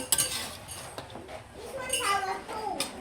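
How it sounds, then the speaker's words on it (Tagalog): Utensils clink and scrape against a cooking pot as pancit and spaghetti with cabbage are stirred for a birthday meal, with scattered clatters and children's voices chattering nearby throughout. "Hinahalo na po ni RJ."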